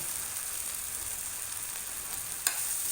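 Hakka noodles with masala are stirred in a hot frying pan, giving steady soft sizzling with a brief scrape of the spatula near the end, close and fairly quiet, with no talking.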